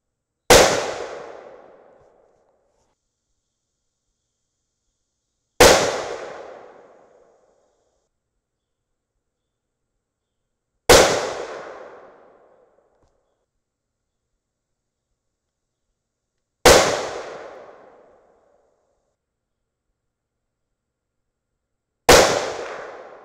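Rifle shots fired at a range during barrel harmonics testing with a muzzle device: five loud, sharp reports spaced about five seconds apart, each trailing off in a short echoing decay, with silence between.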